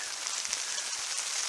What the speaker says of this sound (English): snow, rain coming down